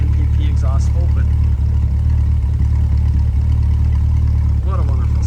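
A 2021 Corvette C8 Stingray Coupe 2LT idles with its NPP exhaust valves open, giving a steady, loud low rumble that never lets up, with brief faint voice fragments over it.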